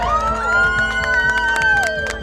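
A police car siren wails steadily and loud, its pitch sliding smoothly up and down, with crowd noise and cheering beneath it.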